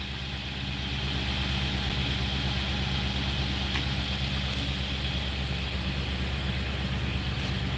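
A slugged-up Nissan NV3500 van that had not been started in two years idles steadily, a constant engine drone with a faint hum that carries on unchanged and alone.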